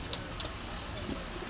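Soft cooing of pigeons in a shop stocked with many breeds, faint and low against a murmuring background, a few brief higher chirps scattered through.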